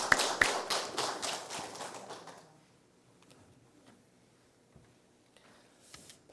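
A church congregation claps to welcome a missionary, brisk scattered applause that fills the room for a couple of seconds before dying away into near silence with a few stray taps.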